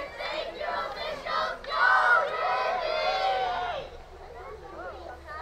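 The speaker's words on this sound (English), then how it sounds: "a big cheering section from the Bulldogs" Field hockey fans of the Canton Bulldogs cheer and shout together in a loud, sustained crowd roar with whoops that fades toward the end.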